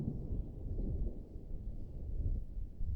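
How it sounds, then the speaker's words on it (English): Autumn rain with low, rumbling thunder after a long dry summer: a steady, dull roar of rainfall and distant thunder, faint and continuous, with no one speaking. "the rain I wished for so fervently over the long, parched summer finally arrived"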